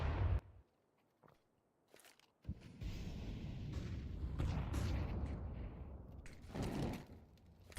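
A grenade thrown in a Counter-Strike match, a sharp burst followed by a sustained rumbling blast and crackle, preceded by brief faint clicks and thuds.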